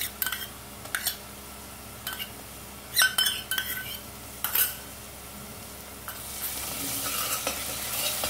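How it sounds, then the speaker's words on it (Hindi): Onions with ginger garlic paste and green chilli sizzle softly in a pan as a metal spoon scrapes and clinks against it in short bursts. The frying noise grows louder toward the end. "अब इसको भी पका लेते हैं। तो ओनियन हमारे ब्राउन होने वाले हैं।"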